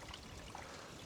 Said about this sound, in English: we are aptly surrounded by the sound of water flowing.